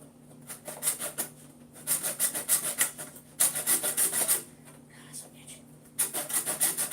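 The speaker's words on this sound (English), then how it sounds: "take my chisel, hammer, crack it, and file it" A file rasps on wood during a guitar build, in rhythmic bursts of quick back-and-forth strokes with short pauses between them, close and fairly loud.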